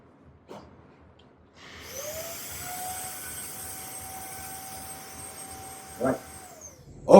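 A Nikola X50 vacuum cleaner motor spins up into a steady high whine, runs evenly for several seconds, then winds down, with a couple of sharp clicks as it is handled.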